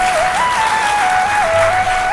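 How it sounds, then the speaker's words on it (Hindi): An audience claps together through a devotional Hindi religious discourse, a dense steady roar of applause with sustained tonal music or singing running over it, loud and continuous throughout. "अब बजाओ ताली।"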